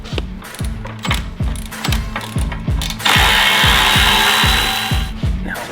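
A ratchet removing bolts from the rear suspension of a modified G82 BMW M4 Competition, close and loud with a steady clicking rhythm of repeated strokes, joined midway by a broad hissing whoosh.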